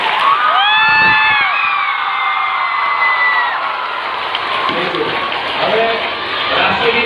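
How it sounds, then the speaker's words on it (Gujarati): An audience at a Guru Purnima celebration and farewell function gives sustained, enthusiastic applause mixed with a few cheers and shouts, with voices carrying through the clapping. "જોરદાર તાળીઓ આપણે"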